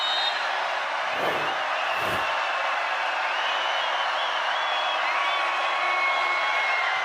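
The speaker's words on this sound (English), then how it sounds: "A lot of noise from this crowd." Dense, steady roar from a crowd at a USC vs BYU men's college volleyball match, loud and continuous throughout with no pauses.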